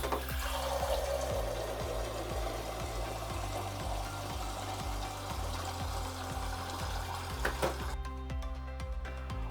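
Water pours steadily into a glass from a Midea Cube Polar Series countertop purifier with ice maker, a continuous close filling stream under a low mechanical hum that cuts off near the end.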